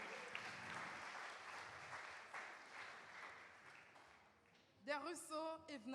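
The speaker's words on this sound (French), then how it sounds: "Sous vos applaudissements" A graduation audience applauds steadily for several seconds, a dense wash of clapping heard at a moderate distance, before a voice speaks at the end.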